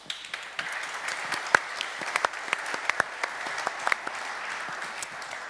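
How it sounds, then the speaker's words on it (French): An audience at a building-renovation conference applauds after the talks, a steady wash of many hands clapping at moderate distance with a few sharper individual claps standing out. "Je pense qu'on peut les applaudir."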